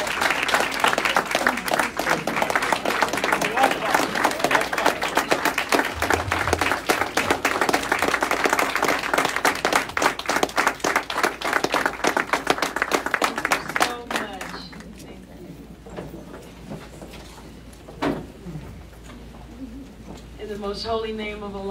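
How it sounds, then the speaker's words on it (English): A large audience at a religious gathering breaks into sustained, dense applause for the incoming minister, which fades after about fourteen seconds as a voice begins speaking. "Let's give her a nice big round of applause."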